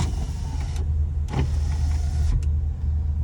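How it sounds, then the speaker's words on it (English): A vehicle's electric power window motor runs in several short bursts, a steady whirring hum that stops and restarts, close by inside the cab with a low idle rumble underneath. "On either side of this dash, you have the window for passenger and window for driver."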